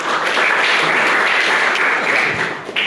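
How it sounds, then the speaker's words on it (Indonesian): A lecture room of university students in a Pancasila education class applauds a classmate, dense steady clapping from many hands that holds strongly throughout and tapers slightly at the end. "Aplaus buat Fauzan, terima kasih"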